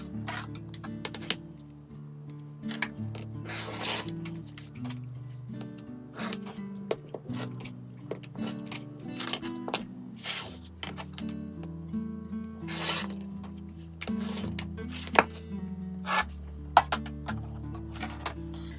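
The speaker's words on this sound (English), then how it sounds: "Now we're going to remove the pins and cut through that drawn line." Scissors or a cutter slice through quilt fabric along a drawn line, giving close, repeated rasping and rubbing strokes with small ticks, in a quiet room with no talk.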